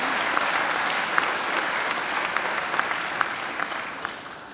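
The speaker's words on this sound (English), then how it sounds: "he deserves another great round of applause" Sustained applause from a graduation ceremony audience, dense steady clapping that fills the hall and slowly tapers toward the end, with no talking over it.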